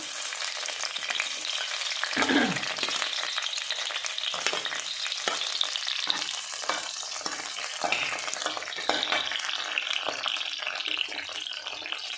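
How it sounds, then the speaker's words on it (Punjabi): Capsicum (bell pepper) shallow frying in oil over a full flame, a steady close sizzle with occasional stirring scrapes throughout. "ਫੁੱਲ ਫਲੇਮ ਤੇ ਅਸੀਂ ਇਹਨਾਂ ਨੂੰ ਫਰਾਈ ਕਰਾਂਗੇ ਸ਼ੈਲੋ ਫਰਾਈ ਕਰਾਂਗੇ"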